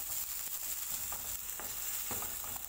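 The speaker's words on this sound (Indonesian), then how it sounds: "kalau kurang minyak, kasih minyak sedikit. Nah, ditumis sampai matang," Barbecue chicken seasoning paste being stir-fried in oil in a pan, a close steady sizzle broken by light spatula scrapes and taps, no voices.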